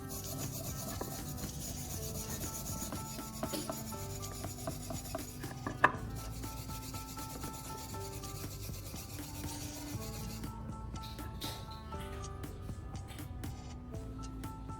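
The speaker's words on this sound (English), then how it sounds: "I use a wire brush to scrub off the rust from the hammerhead" Steady, continuous scraping and rubbing of a wire brush scrubbing rust off a metal hammerhead, a dense rasping texture with one sharp knock partway through.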